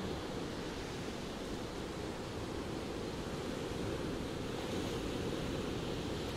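Sea waves wash along a Caribbean shore in a continuous, even rush of surf, steady and moderately loud with no voices.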